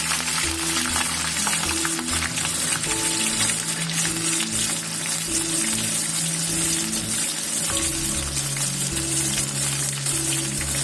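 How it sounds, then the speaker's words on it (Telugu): Peanuts frying in reused oil, a steady, dense sizzle and crackle that stays loud and unbroken throughout with no talking. "ఇలాగ యూస్ చేసిన ఆయిల్లోనే కొన్ని పీనట్స్ని వేసి చక్కగా గోల్డెన్ బ్రౌన్ వచ్చేటట్టు ఫ్రై చేసుకుందాము"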